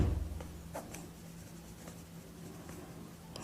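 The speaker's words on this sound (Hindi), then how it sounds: "तो यहाँ लिखेंगे यूक्लिड" Pen writing on paper during a math lesson, a faint scratchy stroke sound with a few soft taps, close but quiet over a low steady background hum.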